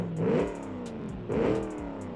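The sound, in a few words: stock car engine revving in the video game Automation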